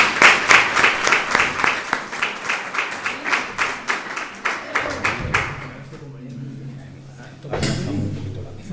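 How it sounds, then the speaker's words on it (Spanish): Small audience clapping for a speaker at a talk, with sharp, distinct claps in a brisk rhythm that thin out after about five seconds, followed by quiet room noise and a brief shuffle. "Un aplauso"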